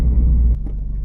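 A Subaru BRZ engine idles just after a cold start, a loud low rumble close by that drops in level halfway through the brief moment.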